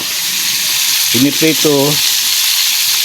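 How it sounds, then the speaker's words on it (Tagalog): Fish sizzles steadily as it fries in a pan, a loud continuous hiss with a brief burst of speech partway through. "ayan piniprito"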